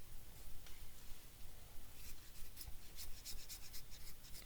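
A knife shaves the dry inner wood of a stick into thin kindling shavings outdoors at a camp shelter, giving repeated soft, close scraping strokes with a rasping texture, quiet and steady with no talking.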